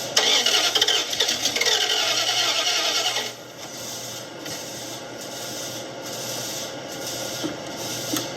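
An old farm truck engine turns over and catches, then runs rough and uneven, missing on one cylinder; loud cranking and revving at first, then a steadier lower idle with faint background noise.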